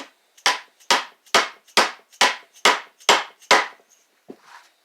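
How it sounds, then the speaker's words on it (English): Rubber mallet tapping a Harley-Davidson 1340 Evo engine part onto its splines, eight evenly spaced, sharp close knocks each fading quickly, followed by a couple of softer taps, with no talking. "Use rubber mallet."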